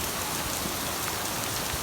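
Hail and rain beat down steadily by the Atlantic Ocean, a dense, even wash of close, loud hiss and patter that never lets up.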